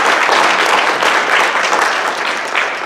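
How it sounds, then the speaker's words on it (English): An audience at a kindergarten graduation ceremony claps loudly and steadily for a few seconds, a dense close wash of applause with no talking. "A round of applause for those two people."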